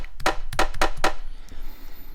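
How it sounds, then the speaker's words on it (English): A snare drum sample, several sharp snappy hits in quick succession followed by a short decaying tail, loud and isolated with no talking. "Second sound is a snare drum"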